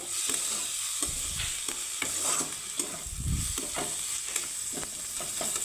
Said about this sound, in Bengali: চিংড়ি মাছটা আমার ভাজা হয়ে গেছে এখন আমি মিক্স করে নেব